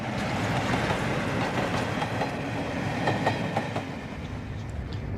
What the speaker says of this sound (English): The royal train is on its way north.